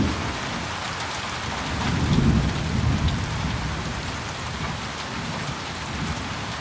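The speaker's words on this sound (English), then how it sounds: "It's raining a lot." Heavy rain pours steadily outdoors in London, a dense, even hiss with a deeper rumbling swell around the middle, and no voices.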